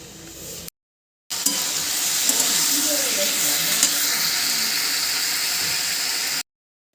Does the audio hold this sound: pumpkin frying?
yes